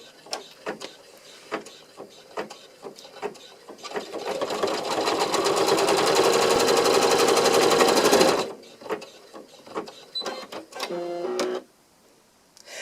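An embroidery machine stitches a placement line for background fabric on an in-the-hoop coaster, a steady whirring needle run lasting about four seconds, framed by clicks and a shorter burst of stitching afterward.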